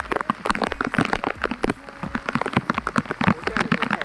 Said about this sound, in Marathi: पाऊस बघा मित्रांनो.